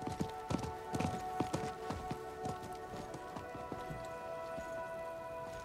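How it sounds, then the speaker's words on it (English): Horse hooves clip-clop in Diablo IV, a steady trotting rhythm of sharp repeated hoof strikes over a humming tonal background, with no talk. "I think that was the merchant's horse."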